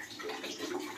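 Running water splashes steadily while a face mask is rinsed off, a soft, continuous wash of close spray and trickle without breaks.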